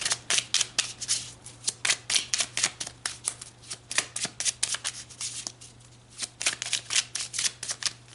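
Tarot cards being shuffled over and over in quick riffling bursts of crisp papery flutters, close and steady against a faint low hum, with no talking.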